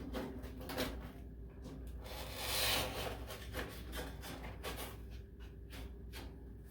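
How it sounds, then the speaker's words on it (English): Cardboard and styrofoam packing being pulled out of the box of a Members Mark 5-burner propane gas grill, making close, continuous rubbing, scraping and squeaky rustling with one louder swell midway, and no talking. "More lovely cardboard and styrofoam."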